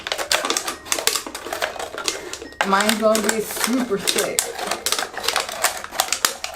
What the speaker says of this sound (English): keep your scissors angled when you are cutting this